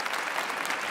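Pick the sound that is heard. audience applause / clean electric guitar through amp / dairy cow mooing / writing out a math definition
audience applause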